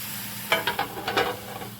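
Chicken sizzles steadily in a hot pan, with a few scraping stirs of a utensil breaking through the constant frying hiss.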